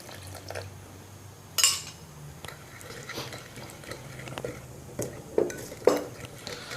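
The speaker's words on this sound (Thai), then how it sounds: "ก็คนให้เข้ากันนะครับ" A wasabi dipping sauce with fish sauce and lime being stirred in a bowl, giving soft clinks and scrapes of a utensil against dishware with a few sharper knocks, quiet and close.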